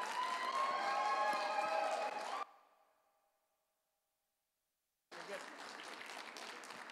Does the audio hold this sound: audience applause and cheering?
yes